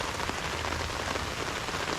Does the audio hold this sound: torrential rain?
yes